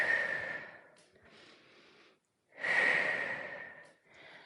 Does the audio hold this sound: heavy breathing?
yes